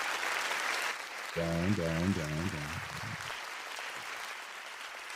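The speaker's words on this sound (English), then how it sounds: "Turn the damn clapping off, please." Sound-effect applause and clapping from a crowd runs steadily under a host's voice in a sports talk show intro, with a short musical tone passage in the middle.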